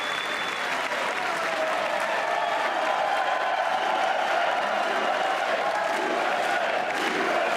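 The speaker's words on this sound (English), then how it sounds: "did they just do like 90 seconds to like almost 2 minutes of applause?" Sustained applause from a large crowd at a Trump State of the Union address fills the whole stretch, dense and steady, with faint cheering mixed in.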